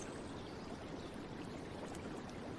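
A flowing stream rushes in a soft, continuous wash of water, faint and even throughout, with no other sounds.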